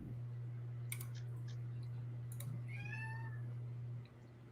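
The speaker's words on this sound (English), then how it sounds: "Yeah, you hear my cat?" Pet cat gives a single rising meow, close and fairly clear, over a steady low electrical hum, with a few sharp clicks just before it.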